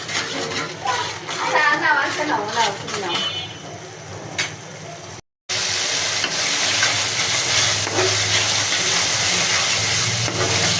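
Spices for a sour-spicy rohu fish curry sauté in a pan, a steady close sizzle and hiss following a stretch of talking and a brief cut.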